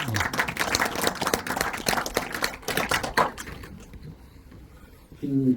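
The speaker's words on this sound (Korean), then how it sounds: "박수 한번 좀." Audience at a film screening with the director claps for about four seconds, dense close applause that thins and fades out before a voice briefly speaks at the end.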